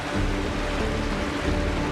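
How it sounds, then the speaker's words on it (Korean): Steady rain pouring in the Penacony setting of the game Honkai: Star Rail, a dense continuous hiss with low rumble, loud and even throughout, with no voices. "들어보렴. 이게 바로 빗소리란다."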